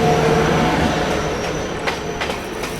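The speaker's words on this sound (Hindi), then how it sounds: "सामने से आ रही है आप लोगों की हरिद्वार से चलकर बांद्रा टर्मिनस की ओर जाने वाली Haridwar Bandra terminus superfast express" The Haridwar–Bandra Terminus Superfast Express rushes past at close range with a loud, continuous roar of rolling wagons, overlaid by brief metallic wheel squeals and clanks.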